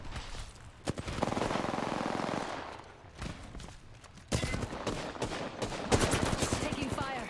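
Rapid bursts of automatic gunfire from an arena match in a shooter video game, loud and sustained in clustered volleys with brief gaps, mixed with other game effects.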